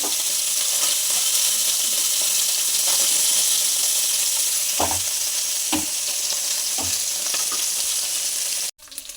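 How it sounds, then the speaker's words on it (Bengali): Lata fish seasoned with salt and turmeric frying in hot oil, a loud continuous close sizzle with occasional spatters and a few stirring knocks, cutting off abruptly near the end. "মাছগুলো সব ভাজা হয়ে গেছে, কত সুন্দর করে একদম লাল লাল করে ভেজে নিয়েছি"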